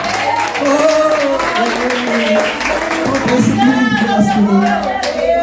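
A church congregation claps at an evening service, a steady wash of applause that carries on for several seconds while voices rise over it.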